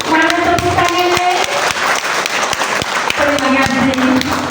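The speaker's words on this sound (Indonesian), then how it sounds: "Bapak dan Ibu, mana tepuk tangannya?" Audience applause at a graduation ceremony, a steady wash of clapping across the whole stretch with sustained tonal music or voices layered over it in places.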